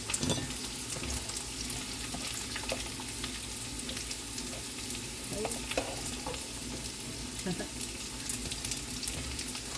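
Tuyo dried fish frying in oil, turned with a ladle: a steady close sizzle runs throughout, broken by scattered scraping and clinking of the ladle against the pan.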